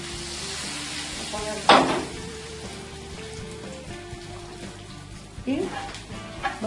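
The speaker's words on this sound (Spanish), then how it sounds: "te vas a escuchar el ruido de que se están cociendo" Battered fish fillet pieces frying in a pan, a steady close crackle and sizzle with a few louder pops and bursts partway through and near the end, no talking.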